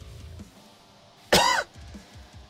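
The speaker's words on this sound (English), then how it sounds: "Seems I have picked up a cough" A single sharp cough bursts out close to the microphone against a quiet background.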